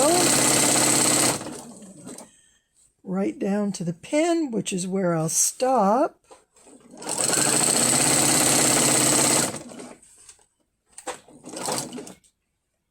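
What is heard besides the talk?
sewing machine stitching quilt binding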